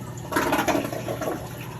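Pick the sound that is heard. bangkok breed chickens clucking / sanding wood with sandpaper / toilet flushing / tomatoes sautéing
toilet flushing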